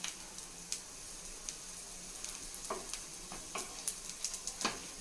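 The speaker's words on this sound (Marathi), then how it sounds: "आणि बारीक गॅसवरतीच त्याला छान भाजून घ्यायचे" Sweet corn cutlets fry gently in a pan over a low flame, giving a quiet, steady sizzle dotted with soft pops and ticks, with no talking.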